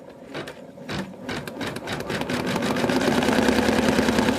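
An embroidery machine stitches placement lines for an in-the-hoop Santa doll, giving a steady, fast mechanical needle rhythm that grows louder and denser as it runs, close by and with no talking.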